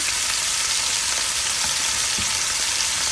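Cuban-marinated chicken fries on a hot griddle with a close, even, continuous sizzle and soft crackle, and no voices over it.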